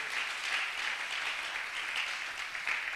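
A church congregation applauds and cheers during a sermon, a dense, steady wash of many hands clapping together, loud and continuous throughout with no pause.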